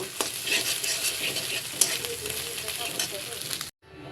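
Eggs with black pepper fry in a pan, giving a close, continuous sizzle with stirring scrapes and a brief clack before the sound cuts off near the end.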